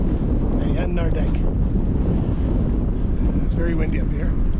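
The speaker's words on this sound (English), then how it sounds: "It's very windy up here. The top of the mountain." Strong wind buffets the microphone on a windy mountain top near Yanar Dag in Azerbaijan, a loud continuous rumble throughout, with faint voices briefly breaking through.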